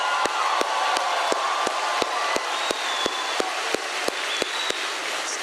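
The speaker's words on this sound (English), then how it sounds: "stand up and give a rousing applause" Crowd applause at a live Turning Point USA tour event, a dense steady wash of clapping and cheering from a large audience, with regular sharp thumps cutting through at an even beat.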